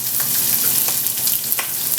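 Brussels sprouts fry in a smoking-hot pan on an induction cooktop, giving a steady loud sizzle with faint crackles and spatters throughout and no talking.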